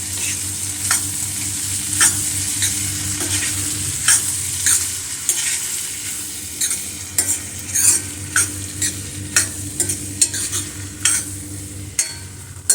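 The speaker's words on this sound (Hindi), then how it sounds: "अब इसको अच्छे से मिक्स कर लेना है।" A spoon stirs masala dal as it fries in a pan, scraping rhythmically over a steady sizzle. The clinks and scrapes repeat through the whole stretch and stand out clearly.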